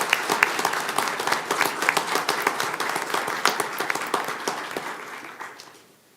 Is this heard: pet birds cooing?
no